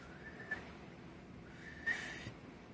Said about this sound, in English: I used to be able to do like the backwards where you suck your air in.